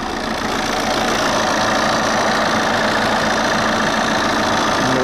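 A car engine with a blown head gasket idles steadily, a continuous mid-range rumble with faint knocking and vibration, close and alone with no talk.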